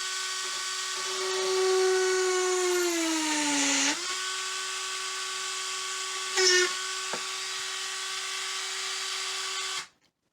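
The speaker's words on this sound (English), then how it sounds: "I'm going to drill a little hole in the top" A small rotary burr drill bores a hole into the top of a dried birdhouse gourd, its steady high whine sliding down in pitch as it bites in, then holding close and loud for several seconds before stopping.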